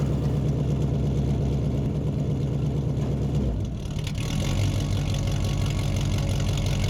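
A Jeep engine runs steadily at close range with a low rumble and whirring drone, loud and continuous with a brief dip midway, no speech.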